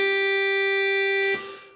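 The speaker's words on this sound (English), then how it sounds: "the clarinet is number 146 and it sounds like this." A single sustained clarinet voice from a Yamaha YPT-260 portable keyboard, one steady held note with a rich harmonic tone that cuts off and fades away after about a second and a half.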